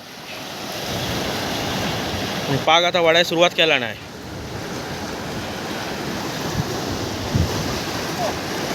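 Rough, churned-up sea surf roars continuously during a fishing trip, with wind buffeting the microphone, and someone speaks briefly over the noise.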